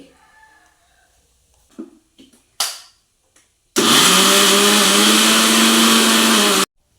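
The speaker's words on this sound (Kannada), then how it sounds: "ಈಗ ಇದೇ ಮಿಕ್ಸಿ ಜಾರಿಗೆ ಒಂದು ಎರಡು ಹಿಡಿಯಷ್ಟು ತೆಂಗಿನ ತುರಿ" A kitchen mixer grinder whirs loudly and steadily for about three seconds while grinding grated coconut, after a few soft knocks and clicks of the jar being set in place.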